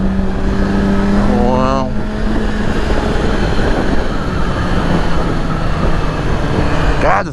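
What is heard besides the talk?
motorcycle engine revving on highway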